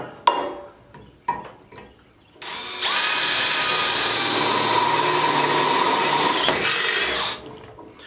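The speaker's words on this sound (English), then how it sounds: "So we're going to drill one hole" A power drill whirs steadily for several seconds after a few sharp knocks, drilling a hole in a trailer axle spindle, then winds down, loud and close.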